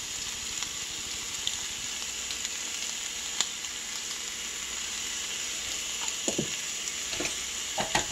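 Turkey bacon for a patty melt sizzles in a pan with a steady, fairly quiet crackling hiss and a few small clinks of utensils near the end.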